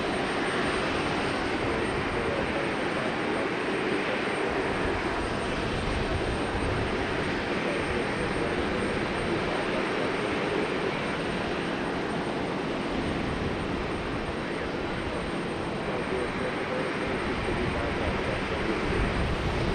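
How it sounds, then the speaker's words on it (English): A Boeing 737 airliner taxis at Raleigh-Durham airport, its steady broadband engine rumble and whine filling the whole stretch at moderate distance, constant in level with no talk. "Getting the 737 back here."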